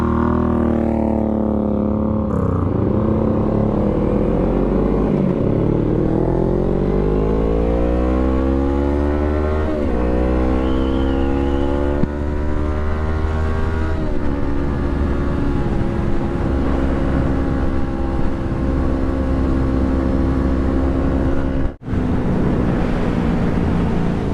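Suzuki Boulevard M109R cruiser motorcycle ridden on a test ride, its loud engine droning steadily while the pitch climbs and falls through repeated throttle sweeps and gear changes, with a brief dropout near the end.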